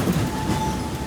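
Disneyland Railroad steam train rolling on its tracks, a close, steady low rumble with a faint high whine and no voices.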